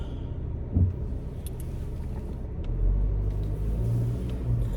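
A car engine rumbles low, then swells and surges around the midpoint and holds a heavier drone, with road noise throughout.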